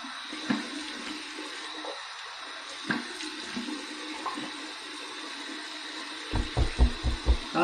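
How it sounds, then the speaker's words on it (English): Warm water runs from a tap as a face is rinsed after shaving, a steady hiss of flowing water with occasional splashes, ending in a burst of close, rhythmic splashing against skin. "Here's my warm water rinse."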